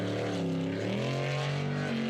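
Jet sprint boat racing at the NZ Jetsprint Championship in Wanaka, its engine roaring steadily with a rising rev pitch, a loud sustained drone heard from a distance.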